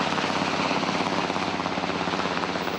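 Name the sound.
helicopter flying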